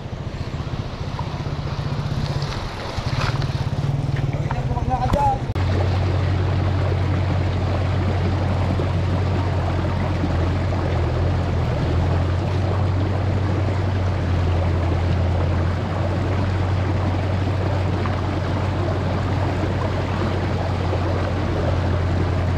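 Broad steady wash of river water rushing across a shallow crossing on a solo motorcycle loop ride in Quirino, Ilocos Sur, with a low engine drone underneath and a brief clatter near the start; continuous and close, no talk.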